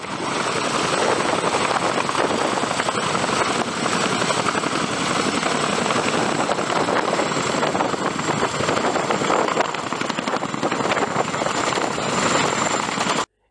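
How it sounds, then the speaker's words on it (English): A CH-47 Chinook helicopter roars loud and steady overhead, its dense rotor and engine noise filling the whole stretch without letting up before cutting off abruptly at the end. "The CH-47 has undergone a series of upgrades to increase its lift and airworthiness in combat environments."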